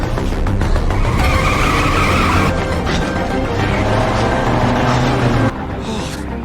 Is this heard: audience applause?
no